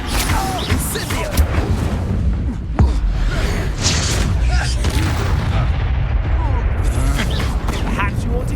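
Expulso spell explosions in the video game Hogwarts Legacy, with loud booming blasts, crackling debris and a sharp impact near the three-second mark, all layered over dense game combat noise and character voices.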